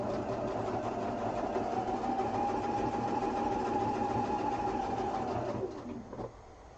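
A sewing machine stitches a quilted duffel bag in one long continuous run, a steady humming motor and needle drive that slows and stops near the end.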